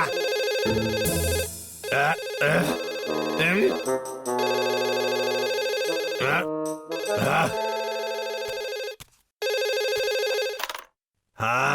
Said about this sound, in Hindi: ये पक्का सर का फोन होगा।